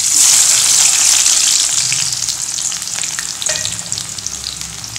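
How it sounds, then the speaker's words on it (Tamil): Small onions sizzle and fry in hot oil for chicken gravy, a steady loud crackle that eases slightly over the stretch, with faint stirring and no talking. "எண்ணெய் காயுது அதுல சின்ன வெங்காயம்"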